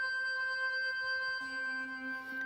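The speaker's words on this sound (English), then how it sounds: "So it becomes a little bit more ringy. It's basically a resonator." A sustained synth tone through a Bitwig comb filter with a metallic, ringing resonance; partway through, the pitch drops and a hollow, comb-like shimmer takes over.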